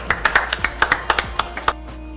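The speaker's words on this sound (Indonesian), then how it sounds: "Tepuk tangan untuk Regu D" A small group claps about a dozen crisp, uneven hand claps at a school quiz show to reward Team D, close and fairly loud, stopping abruptly after about two seconds.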